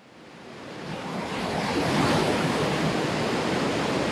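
Water rushing at a barrage on a canal that feeds village farms, a broad steady roar that swells in the first two seconds and then holds loud and even.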